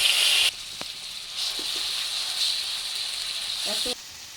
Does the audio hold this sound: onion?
yes